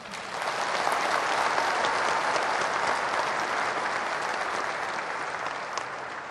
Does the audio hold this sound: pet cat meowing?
no